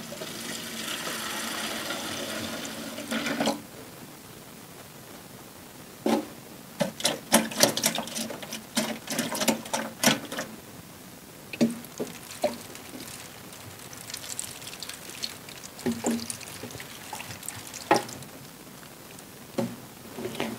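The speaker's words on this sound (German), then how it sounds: "Dann habe ich hier Wasser aus meiner Regentonne." Rainwater from a garden rain barrel pours steadily into a container, a continuous splashing wash that stops, followed by scattered knocks, drips and handling sounds.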